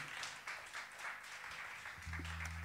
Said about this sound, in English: Please clap them along.